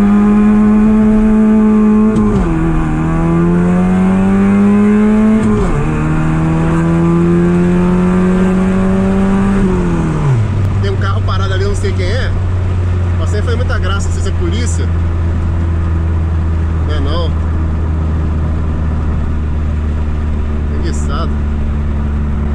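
A car makes a launch-control start and accelerates toward 100 km/h, its engine note climbing loudly through several quick flat-shift gear changes before settling into a steady lower drone while someone talks.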